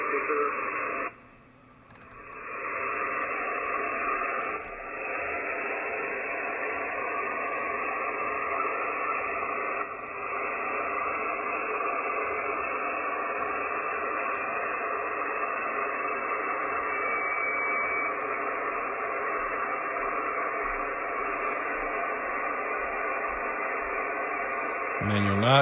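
A high-pitched heterodyne whistle in SSB radio reception, a thin tone sliding slowly upward in pitch over a constant hiss of static and noise, continuous and moderately loud.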